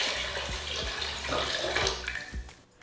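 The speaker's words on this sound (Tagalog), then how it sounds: "Ilalagay ko na yung tubig." Water pours into a cooking pot of pork for sinigang, a steady splashing gush with faint rhythmic thumps underneath, close and fairly loud, tapering off at the end.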